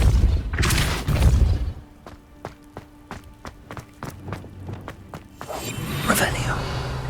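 Depulso spell cast in the video game Hogwarts Legacy, a quick run of sharp rhythmic magical pulses and thuds at moderate volume, framed by whooshing effects and game ambience before and after.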